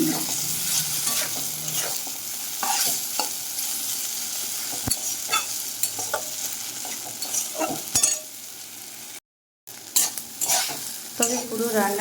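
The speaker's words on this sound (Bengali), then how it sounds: "একটু ভেজে নেব নিম পাতা আর বেগুনের সঙ্গে উল্টে পাল্টে ভাজা হয়ে যাবে" Neem leaves, brinjal and dry red chillies fry in a pan under a constant sizzle. A spatula turns them in repeated, uneven scrapes and taps, close by, with one brief silent gap.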